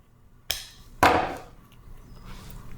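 Floral wire trimmed with cutters while making a boutonniere, giving two sharp snips about half a second apart, the second louder and ringing briefly, then quiet handling noise.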